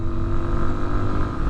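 Sinnis Terrain 125cc adventure motorcycle engine running steadily under load in third gear around 5,500 rpm, a continuous close drone with wind noise and no talk.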